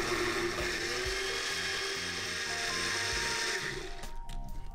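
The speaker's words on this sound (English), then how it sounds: "And we're gonna blend this on high for about 2 minutes." A blender runs on high, mixing a batter made with soy margarine in a home kitchen, a steady loud whir with a mechanical churning rattle that holds throughout, then drops away near the end.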